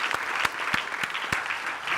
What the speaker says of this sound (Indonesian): Oke, tepuk tangan buat Dennis yang punya juga